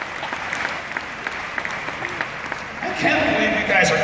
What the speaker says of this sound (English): I can't believe you guys are clapping.